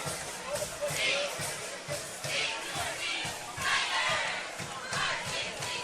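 A football stadium crowd roars in a steady wash of cheering and shouting during a junior college game, with a rhythmic low thumping underneath and an announcer talking over it.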